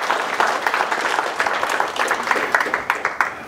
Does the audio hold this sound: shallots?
no